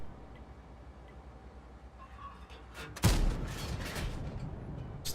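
A single heavy tank gun shot booms out in a tank battle game, an abrupt loud blast cutting through quiet engine rumble, then a long rolling echo that fades away.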